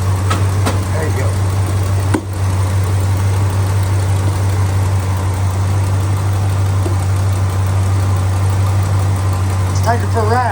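A car engine idles steadily after costly repair work, a constant low rumble running nearly unchanged throughout, with people talking over it.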